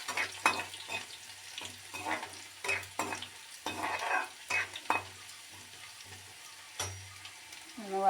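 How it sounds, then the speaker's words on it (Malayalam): Ginger, garlic and curry leaves fry in hot oil for a rambutan pickle, with repeated spoon scrapes and knocks against the pan over a steady sizzle, close by. "ഇഞ്ചിയും വെളുത്തുള്ളിയും കരിയാപ്പിലയും കൂടെ ഇട്ട് കൊടുത്തു."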